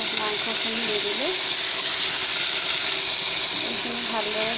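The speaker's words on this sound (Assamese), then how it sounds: "মাংসখিনি ধুই থৈছোঁ, গতিকে আমি ইয়াত মাংসখিনি দিম। আমি ইয়াত মাংসখিনি দি দিলোঁ।" Washed duck meat frying with spices in a hot pan for a duck and pumpkin curry, a loud continuous sizzle with faint stirring beneath, up close and without speech.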